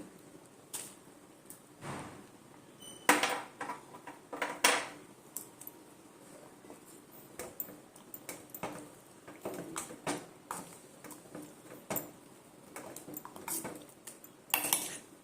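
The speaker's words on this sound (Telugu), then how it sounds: "ఇప్పుడు ఇందులో నేను పంకిన్ వేసేస్తున్నాను" Pumpkin pieces added to a pot of barley soup, soft clinks and knocks of a utensil against the pot scattered through, with a few sharper clatters, fairly quiet and close.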